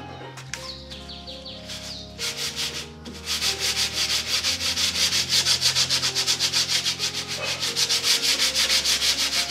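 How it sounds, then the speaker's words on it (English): Fine P0 sandpaper rubs over a painted wooden wall unit that has filled patches, in a steady rhythmic back-and-forth scratching up close that grows louder after a few short strokes. "sanding once more with the P0, which is the very finest, to just give that fine smoothness, especially because of the places that had filler"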